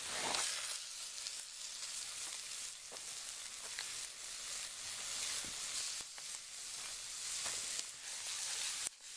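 Eggs sizzle and hiss steadily in very old pans on an outdoor cooking stove, a constant bright frying crackle with a few small pops, moderately quiet and with no talking.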